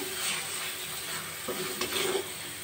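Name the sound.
stirring chhena mixture in a pan over raised flame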